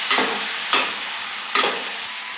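Green chicken fry cooking in a pan with ginger paste, a close sizzle broken by three sharp bursts of stirring scrapes spaced roughly evenly.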